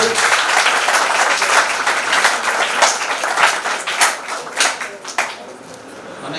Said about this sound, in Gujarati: ખૂબ તાળીઓથી સાહેબનું સ્વાગત છે